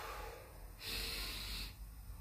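Sharp, breathy exhalation during a push-up, one strong puff of air lasting under a second between quieter breaths, close and alone.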